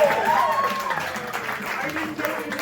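An audience claps for the field blimp, a moderate spatter of applause under a voice that keeps talking over it.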